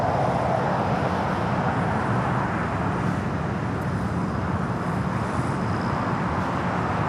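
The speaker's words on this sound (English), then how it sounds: "We do have a United Dreamliner, flight 212, coming up from Newark." A United Boeing Dreamliner arriving from Newark at LAX produces a steady, even jet roar from a distance that holds for several seconds without a break.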